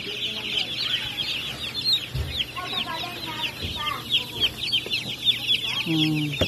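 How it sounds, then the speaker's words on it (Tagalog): Newly hatched chicks peep in a steady, close chorus of high cheeping, with a voice speaking briefly underneath. "Pero ang gaganda ng sisiw ngayon, oh."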